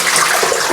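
Used descale fluid from a Sage Barista Express espresso machine is poured away, a short, close splashing gush of liquid, steady and fairly loud, with no speech over it.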